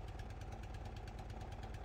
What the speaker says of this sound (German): Oh, ich kann noch anziehen. Dann wird der Motor ein bisschen lauter.